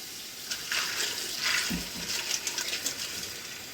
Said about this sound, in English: Now I'm going to get some more water in this and do it another time.